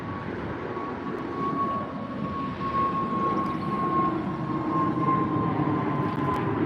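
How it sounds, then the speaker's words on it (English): An Aer Lingus A320 departing Heathrow for Dublin gives a steady, sustained jet roar with a thin whining tone running through it, constant and fairly strong throughout without voices. "Aer Lingus, a different airline for the moment. A320 flying out to Dublin."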